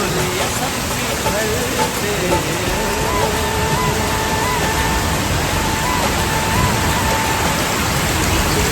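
Heavy, steady rain pours down on the mountain path to the Vaishno Devi and Bhairavnath temples, a dense continuous hiss of drops with no pause, loud and close.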